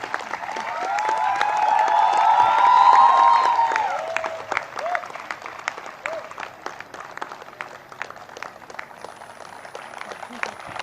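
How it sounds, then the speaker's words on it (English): At a college convocation, the audience gives the faculty a sustained round of applause, with a crowd cheer swelling and fading in the first seconds before scattered, thinning claps continue. "A huge round of applause to them from everybody."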